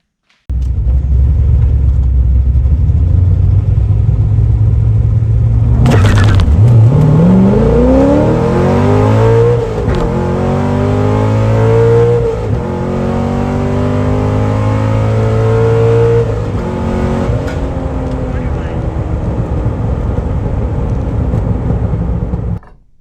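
A C8 Corvette launches hard down the drag strip at Keystone Raceway, its loud engine climbing through rising gear sweeps with a sharp shift break after each one over the full run, close and alone with no voices.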